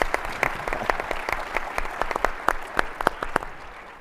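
An audience at a science and justice panel event claps to welcome a panelist, brisk, steady applause from a moderate-sized crowd that fades slightly at the end.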